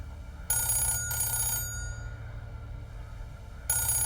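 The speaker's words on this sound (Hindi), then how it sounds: "टेलीफोन बहुत ज्यादा ही बज रहा है ना" A telephone bell rings in loud bursts, two quick rings followed by a pause and another ring, with no one speaking over it.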